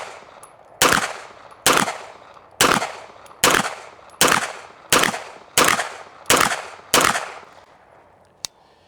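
Eight evenly paced pistol shots from a LimCat 2011, loud and close, each a sharp crack with a short decay, followed by a faint metallic click.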